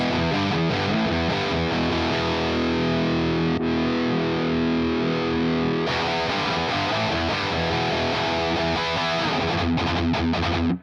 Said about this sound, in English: especially the chugging